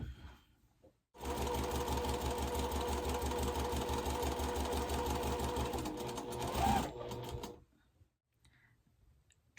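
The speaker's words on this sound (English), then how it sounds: "I'm going to go ahead and I'm going to sew on the line since I have this foot on" A sewing machine stitches a quilt block along a marked line with a presser foot on, running in one steady, fast, close burst of several seconds, starting and stopping abruptly with quiet moments before and after.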